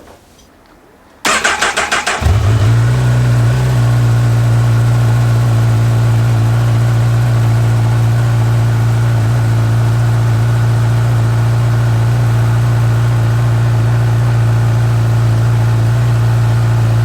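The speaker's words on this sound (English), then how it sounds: "Let's turn the engine on." A car engine cranks briefly after a quiet pause, catches, then settles into a steady, loud, close idle that hums on evenly without talk.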